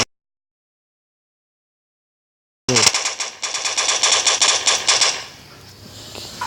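Rapid automatic gunfire from the mobile shooter game Standoff 2 bursts in loudly after a stretch of silence, a dense rattling volley lasting a couple of seconds before easing into a quieter tail.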